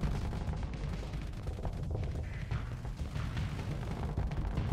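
Ship weapons firing in the space game Starsector, a dense continuous rumble of distant gunfire and impacts rolling on without pause, no talking.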